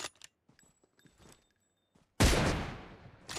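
A sniper rifle firing in the mobile battle royale game PUBG Mobile, a single sharp, loud shot with a ringing tail after soft clicks and quiet game sounds.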